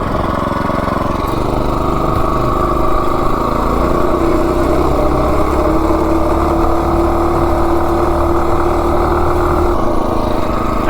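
A 212 Ghost minibike engine fitted with a 24mm D slide carburetor runs loud and close while riding, a continuous buzzing drone with a rising tone partway through.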